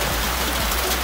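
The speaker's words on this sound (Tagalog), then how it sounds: "Ang matinding ulan, hindi naman matinding ulan, yung katamtaman na ulan" Moderate rain falls on a tomato farm, a dense, even hiss of drops that is loud and continuous throughout.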